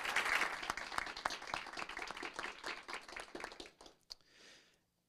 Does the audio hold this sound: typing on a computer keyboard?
no